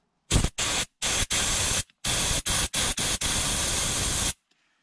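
Canned air duster sprayed onto the centre dash speaker cover light sensor of a Mercedes W204, a series of sharp close hissing bursts of varying length separated by short silences, ending in one long blast.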